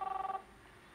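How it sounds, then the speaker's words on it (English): A telephone ringing in the video game Captain Spirit: a short burst of rapid, warbling electronic trill pulses for under half a second, fairly quiet, then cutting off to near silence. "Chris, answer the phone, please."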